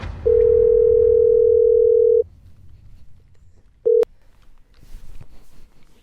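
A phone line gives a loud, steady single-pitch tone for about two seconds after a call is hung up, followed by quiet room noise and one more brief beep of the same tone.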